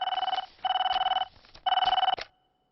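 An office telephone rings in a comedy scene: three loud electronic trilling bursts, each pulsing rapidly, separated by short gaps and cut off abruptly at the end, with no voices.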